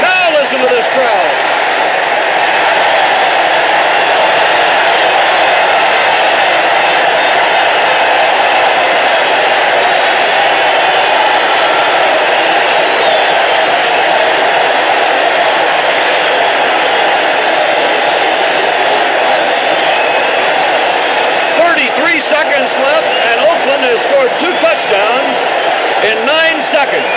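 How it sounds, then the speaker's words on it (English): A packed stadium crowd roars continuously after an Oakland touchdown in a 1969 football game, a loud, dense, unbroken wall of noise with a broadcaster talking over it. "Now listen to this crowd."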